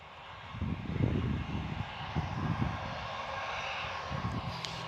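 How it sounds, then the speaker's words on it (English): A Jetstar airliner at Gold Coast Airport rolls along the runway and departs, its engines giving a steady, moderately distant roar that swells briefly and then holds. "this is Jetstar off to Sydney, off to Melbourne. He'll pretty much just roll through and depart"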